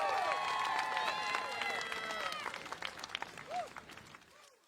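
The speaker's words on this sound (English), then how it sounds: "Give our square dancers a round of applause." Applause and cheering from a crowd at the Smithville Fiddlers' Jamboree square dancing competition, mixed with shouting voices over dense clapping that gradually thins out over several seconds.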